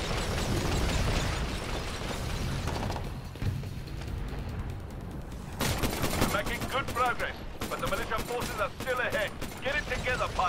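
Rapid gunfire in the video game Titanfall during ranked multiplayer, a dense, close stream of shots with mechanical clatter and explosive bursts, a player talking over the action.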